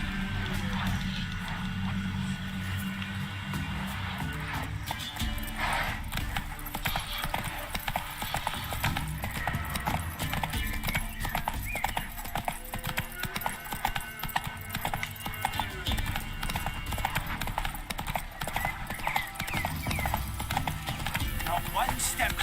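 Roach the horse gallops in The Witcher 3, a continuous clip-clop of hooves with an occasional whinny, mixed with game sounds and frequent speech.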